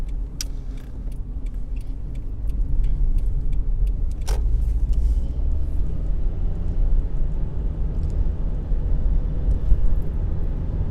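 A 2015 Subaru Forester 2.5i merging onto a highway, its steady low road and engine rumble filling the cabin, with tire and wind noise building slightly partway through and a brief click near the middle.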